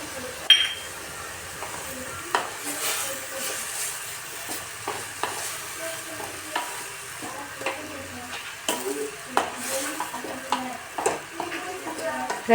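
Carrot halwa cooking in a pan with warm milk and cardamom, a soft sizzle under frequent sharp stirring and spoon clinks against the pan, close with no speech.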